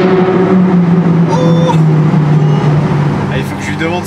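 A sports car exhaust, thought to be a naturally aspirated V10, drones loudly and steadily with a rising, shifting tone, heard from close by on a mountain road drive, with a voice exclaiming over it.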